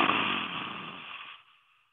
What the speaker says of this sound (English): while breathing out, you have to wide open your mouth and wide open your eyes